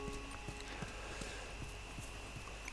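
Steady clip-clop of horse hooves trotting in an even rhythm in The Last of Us Remastered, with a faint musical hum and ambient noise beneath.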